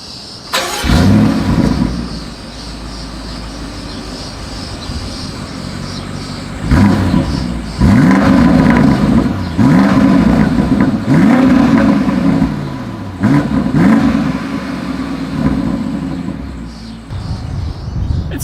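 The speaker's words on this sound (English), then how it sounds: "I do think this is going to sound good because we have the M50i" A 2020 BMW X7 M50i engine revs hard several times, sharp rising roars with a rumbling exhaust idle between bursts, loud and close.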